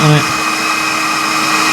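A heat gun blows hot air over heat-shrink tubing on car wiring during a K20 engine swap in a Toyota MR2 MK3, a steady loud whooshing hum after a brief lower tone at the start.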